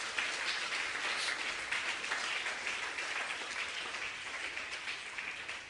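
A church congregation breaks into strong, sustained applause during a sermon, a dense wash of clapping that holds steady for several seconds.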